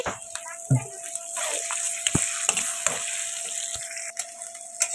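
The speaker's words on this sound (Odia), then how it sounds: "ଏବେ ଏଥିରେ 5 ଫୁଟଣ ପକାଯିବ।" Five-spice tempering (phutana) sizzles and crackles as it fries in hot oil. A steady close hiss carries scattered sharp pops throughout.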